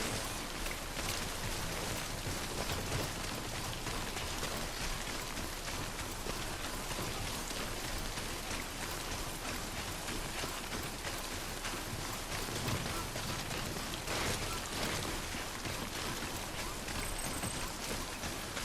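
Steady, dense rainfall in the video game Death Stranding, a continuous broadband hiss of drops pattering on surfaces that stays constant and close throughout, with no voices over it.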